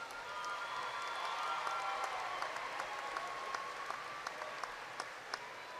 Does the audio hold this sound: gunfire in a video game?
no